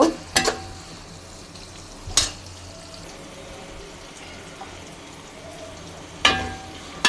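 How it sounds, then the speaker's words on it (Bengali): Garlic frying in a pan for a Bangladeshi beef and chui jhal curry gives a soft, steady sizzle, broken by a few sharp clinks of stirring. "এটাকে আমরা ভালোভাবে ভেজে নেব"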